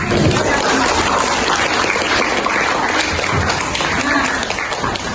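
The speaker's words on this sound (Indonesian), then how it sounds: "Tepuk tangan untuk kelompok 1." High school students in a sociology classroom clap together for a presentation group, a loud, continuous wash of clapping that holds steady for several seconds.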